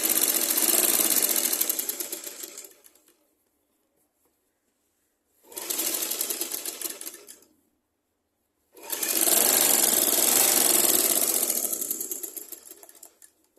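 A sewing machine stitches the pleats of a skirt in three separate runs, each a loud, rapid mechanical whirr lasting a few seconds, with silent gaps between them.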